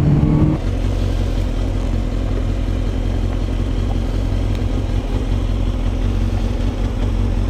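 A Suzuki GSX-R 1000 sport motorcycle engine roars steadily at high revs throughout, a loud continuous close drone with no pauses and no talking.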